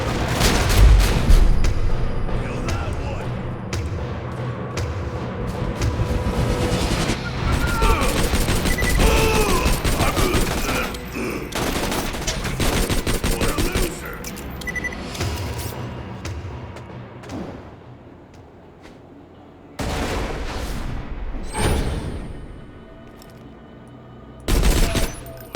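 Gunfire from a bandit-barrel gun in Borderlands 2: dense, rapid bursts of shots fill most of the stretch, loud and close, pausing briefly before a final short burst near the end.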